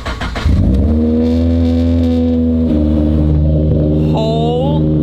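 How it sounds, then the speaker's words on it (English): A straight-piped Nissan Skyline R34 running on E85 fuel roars up from idle into a loud, sustained, steady drone with strong harmonic tones, close and dominant, with a brief whine-like rise near the end. "This thing is ridiculously loud."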